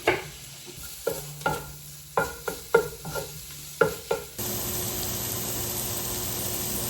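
Butter and onions in a pan, first stirred in a series of sharp spatula scrapes and taps against quiet background, then giving way to a loud, steady, close sizzle of frying.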